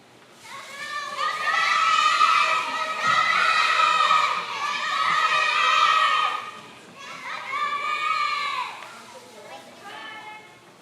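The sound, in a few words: crowd cheering and shouting at a children's school play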